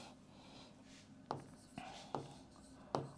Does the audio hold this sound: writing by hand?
yes